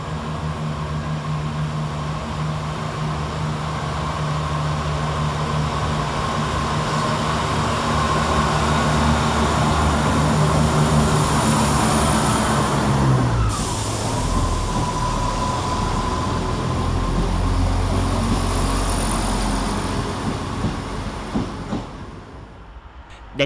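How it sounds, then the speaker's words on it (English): Chiltern Railways diesel unit 168217 pulling out of Leamington Spa station, a steady engine drone and rumble building as it moves off, with a brief squeal midway and the sound fading toward the end. "Next out to depart is 168217, working 1300 Chiltern Railway service from London Marylebone to Birmingham Snow"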